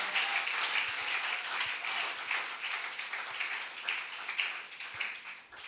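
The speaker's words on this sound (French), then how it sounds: "On applaudit pour le Seigneur." A church congregation claps continuously in a steady, rhythmic patter, moderately loud and sustained for several seconds.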